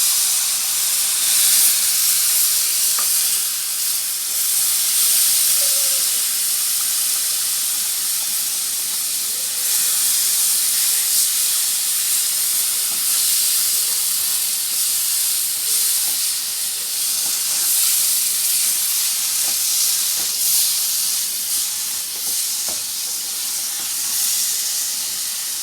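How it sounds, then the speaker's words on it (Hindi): Milk added to a hot pan of suji mixture for laddu gives a steady, even hiss of steam and sizzling that runs unbroken for the whole stretch, close and fairly loud. "साथ 1 कप अब हम दूध डाल दें।"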